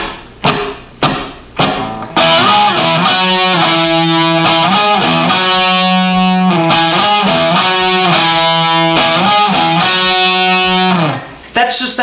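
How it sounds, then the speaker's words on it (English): Lead guitar hook played as octave shapes, a few sharp muted strums, then a loud, sustained distorted melodic line that holds for about nine seconds before fading. "the lead guitar sounds like this"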